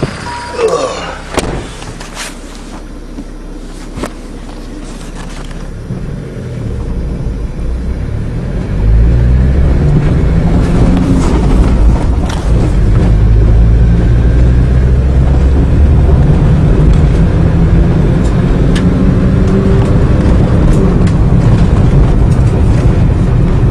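A diesel caravan engine drones steadily while driving on the road, the low rumble growing louder and fuller after the first few seconds and holding strong to the end.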